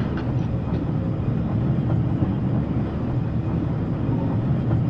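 A parcels train running from Brighton to London Bridge gives off a continuous low rumble with faint rhythmic clatter, holding steady and fairly loud throughout, with no voices.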